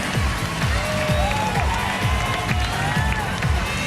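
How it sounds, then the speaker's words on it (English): A large arena crowd at the 2007 WNBA All-Star Game applauds and cheers for the All-Stars, a dense, loud roar of clapping and shouting that stays even throughout. "One more round of applause for your"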